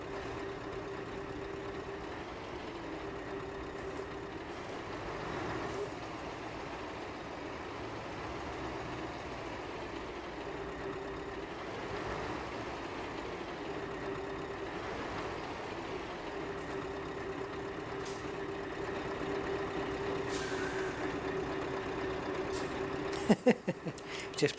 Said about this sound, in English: This truck looks really good, and it sounds nice as well.